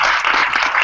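A crowd breaks into applause to welcome guests back: a short, dense burst of clapping heard alone, lasting under a second.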